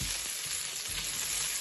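Chicken and onion stir-fry sizzling in a hot pan as it is stirred, a steady loud hiss of frying with faint scraping underneath, close up and continuous with no voices.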